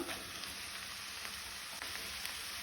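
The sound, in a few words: chopped tender jackfruit added to frying pan, sizzling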